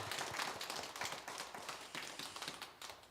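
A church congregation claps for the choir during a Sunday service, a soft, fairly quiet patter of scattered hand claps that rises and falls in small bursts without any voices over it.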